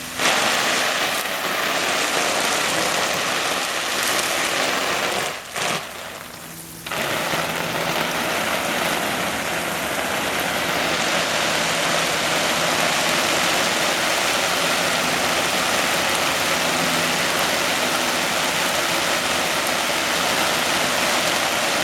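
A garden hose sprays water onto a hammock tarp to mimic rain, a loud, steady close-up hiss and patter that runs continuously except for a short break partway through.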